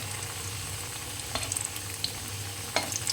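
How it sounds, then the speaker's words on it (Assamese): Potato pieces coated in turmeric, salt and red chili fry steadily in hot oil, a continuous close sizzle with a few sharp utensil clicks and stirring scrapes scattered through. "আৰু আলু ফ্ৰাই কৰি আছোঁ"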